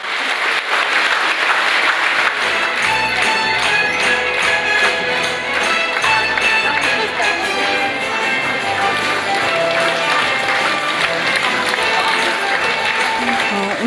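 Audience applause at an award ceremony, as honorees walk onto the stage: loud, sustained clapping from a large crowd fills the whole stretch, dense and steady with sharp individual claps throughout and no talk.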